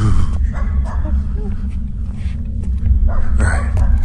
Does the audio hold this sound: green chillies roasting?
no